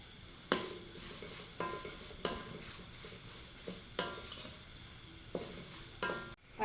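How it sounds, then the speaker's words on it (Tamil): Curry leaves dry-roast in a pan for homemade chilli powder: a soft sizzle broken by regular scraping and clinking strokes of a spoon about once a second, close and quiet, with no voices. "பாருங்கள் கருவேப்பிலையே வறுந்து போச்சு"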